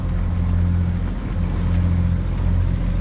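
A sailboat's inboard engine drones steadily at sea, a constant low hum with a mild wash of wind and water, running evenly with no voices.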